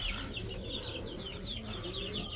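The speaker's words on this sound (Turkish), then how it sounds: "bu civcivler ne biçim yemek yiyorlar böyle ya?" Chicks about three to four weeks old peck and cheep busily while eating over a steady background hum, with constant chirping and soft tapping throughout.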